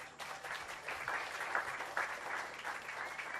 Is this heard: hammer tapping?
no